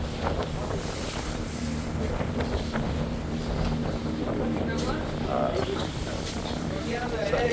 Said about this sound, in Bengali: মেঘনা নদীতে প্রবেশ করা মাত্রই নদী একদম ভয়াবহ উত্তাল, আর প্রচণ্ড বাতাস আর গুড়ি গুড়ি বৃষ্টি হচ্ছে